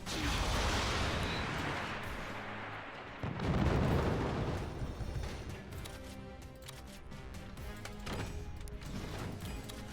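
Mortars firing and shells exploding in the physics-based fort battle game Forts, a dense run of booming blasts and bursts, loudest early and again near the four-second mark, then continuing as rumbling impacts.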